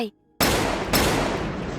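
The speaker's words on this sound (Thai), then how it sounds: "กระสุนจากปืนลูกซองของสองพ่อลูกที่ลั่นออกไป" Two sharp, loud shotgun blasts in quick succession, each a broad burst of noise with a lingering rumble after.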